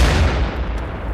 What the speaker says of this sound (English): that's a good grenade